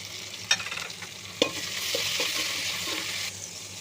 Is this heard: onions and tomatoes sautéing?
yes